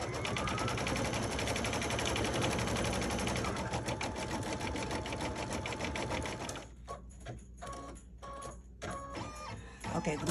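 Sewing machine stitching white stripes onto blue leather for a flag-themed pillow, a fast continuous mechanical whir that later breaks into short stop-start bursts of stitching, fairly quiet and close.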